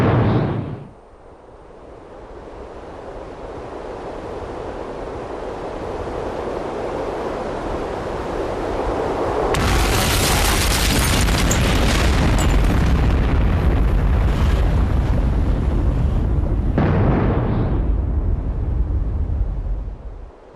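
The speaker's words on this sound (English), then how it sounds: "Mehmed's cannons pounded the walls, consuming tens of tons of gunpowder" Heavy booms and a long rolling roar of Mehmed's cannons bombarding stone city walls, with sustained loud rumbling in the middle and a sharp blast near the start.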